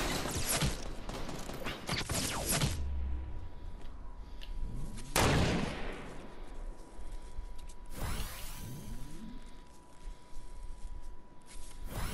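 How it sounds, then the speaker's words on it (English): Gunfire in the video game Fortnite, loud bursts of shots and impacts with whooshing sweeps during a close-range fight, dense and continuous with no speech. "Oh, they're shooting me from behind."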